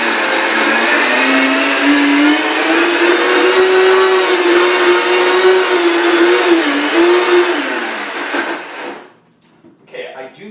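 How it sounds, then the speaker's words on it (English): A high-powered K-Tech blender runs steadily, whirring loud and close while blending almond coconut yogurt, its pitch wavering slightly before the motor cuts off near the end, followed by a brief clatter. "blend it in a high-powered blender."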